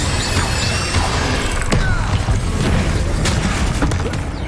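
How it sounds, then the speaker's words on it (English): Casting the Incendio fire spell in Hogwarts Legacy produces a loud, dense roaring whoosh with crackling and thumping impacts, sustained throughout without pause. "Incendio!"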